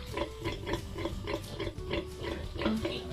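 Repeated rhythmic grunts and oinks from a Duroc pig on a farm, close and steady, sounding every few tenths of a second with faint voices behind.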